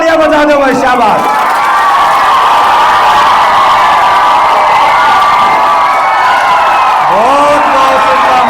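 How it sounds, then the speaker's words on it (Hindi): A crowd of schoolchildren cheers and shouts loudly while clapping in the background, a continuous roar with rising whoops near the start and end; a voice calls out over the noise. "जोरदार तालियां बजा दो भाई, शाबाश"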